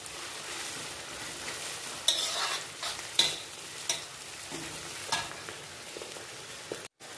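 Tomato and onion masala frying in a pan for eggplant paratha, with a soft, steady sizzle and intermittent scraping knocks from a stirring spoon, about six strokes spread across the clip.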